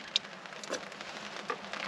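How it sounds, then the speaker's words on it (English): Light but steady rain falls in the woods, a soft continuous patter of drops with a few sharper taps standing out, close and moderately loud, with no voices. "there's some light but quite steady rain coming down."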